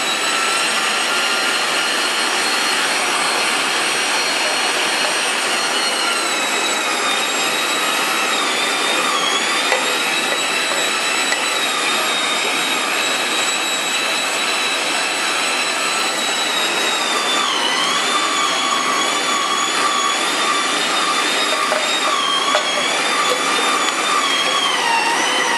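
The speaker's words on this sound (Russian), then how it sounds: "Включаю мясорубку и начинаю процесс." Electric meat grinder grinding horseradish root, a steady high-pitched motor whine with grating, rasping texture running continuously and close, pitch dipping slightly as the load changes.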